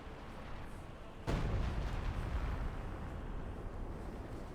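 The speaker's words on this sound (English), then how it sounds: "2 howitzers out there. Plus, of course, all the mortars in the world." Howitzer and mortar fire in Company of Heroes 2, one heavy boom that cuts in sharply over a low rumble and fades into a long rolling decay.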